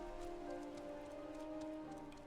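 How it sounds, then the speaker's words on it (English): Rain patters steadily on a surface close by, a soft, even hiss of drops that never lets up, with a faint tonal hum running underneath and no voices. "I mean, it's raining here"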